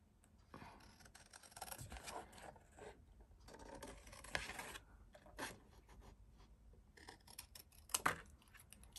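Scissors cutting a paper letter B out for a collage card, a quiet close series of snipping and rasping cuts with small paper rustles, unhurried and irregular, with no talking.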